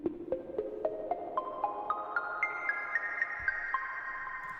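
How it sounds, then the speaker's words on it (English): A Paradise Bell synth preset from Massive plays a rising sequence of bright, bell-like tones, each note pinging out and ringing over the last as the line climbs steadily, with no talking. "This used to be like the Paradise Bell preset"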